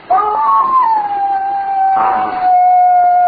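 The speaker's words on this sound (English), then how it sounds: "The neighbor's dog's at it again, Mrs. Edney." A dog howls in a radio drama, one long wavering, drawn-out howl that slides down in pitch and holds steady, close and loud, with no talk over it.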